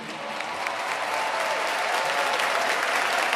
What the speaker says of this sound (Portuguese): Now stand up and give yourself a resounding round of applause.